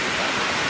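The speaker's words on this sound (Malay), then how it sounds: "Suasana hujan di rumah Akik." Steady rain pours down around a raft house at Pulau Indah, a dense, even hiss close by that fills the moment with no voices.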